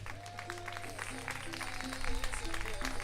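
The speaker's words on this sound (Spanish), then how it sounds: "Non escoiten os aplausos para Mario Méndez." Applause at the finish of an open-water swim race, the Travesía Vila do Tea, greeting winning swimmer Mario Méndez as he leaves the water; steady clapping over a low hum, growing louder near the end.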